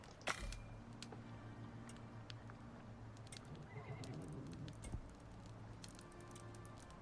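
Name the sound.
horses neighing in the video game Icarus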